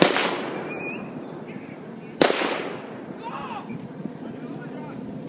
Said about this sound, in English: You heard all that gunfire.